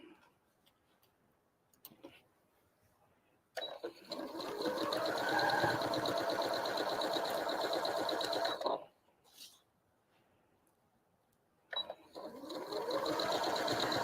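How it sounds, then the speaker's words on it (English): A sewing machine stitches a quilt block seam for a Friendship Star block in two close, steady runs of rapid rhythmic needle chatter, separated by a short quiet pause. "now I can just sew right down that line"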